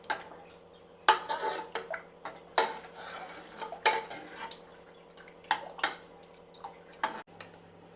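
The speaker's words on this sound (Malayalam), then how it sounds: "നന്നായിട്ടൊന്ന് മിക്സ് ചെയ്തെടുക്കാം." A spoon stirs drumstick sambar in a metal pot, giving a brisk, uneven run of scraping clanks and taps against the sides, fairly close and loud over a faint background hum.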